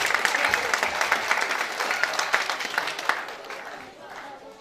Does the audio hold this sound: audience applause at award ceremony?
yes